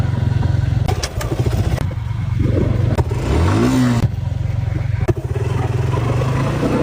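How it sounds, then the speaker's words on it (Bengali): A motorcycle ridden by a beginner putters close by, then revs with a rising whine before settling back to a steady idle, with a few clattering knocks. "সে যখন নতুন নতুন মোটরসাইকেল চালাইতে যায়।"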